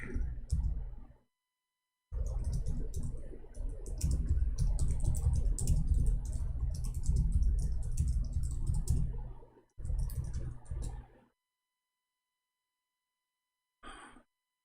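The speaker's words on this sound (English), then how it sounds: "I type, I think I'm typing in English, but turn to be in Arabic." Keys click on a computer keyboard in quick, fairly loud bursts separated by silent pauses, with a long final pause before one brief tap.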